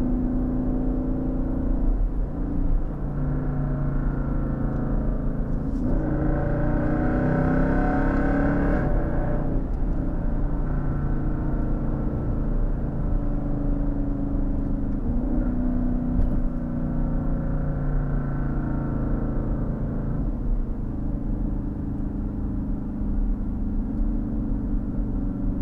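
Jeep SRT Grand Cherokee engine droning steadily from inside the cabin while the driver works the paddle shifters, its pitch rising and settling through gear changes over a loud, continuous road roar.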